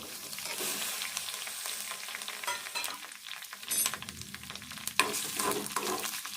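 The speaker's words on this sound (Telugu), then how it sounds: "ఫస్ట్ ఈ మిరపకాయలు వేపుకుందాము" Chillies frying in a spoonful of hot oil, a steady close sizzle with occasional stirring scrapes and clicks throughout, no talking.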